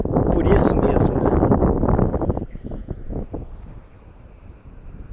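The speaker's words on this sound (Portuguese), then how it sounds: "Espero que o áudio aqui fique razoável devido ao vento" Wind gusting into a microphone outdoors in Lisbon, Portugal, a heavy low rumbling buffet that dominates at first, then eases into lighter, intermittent gusts.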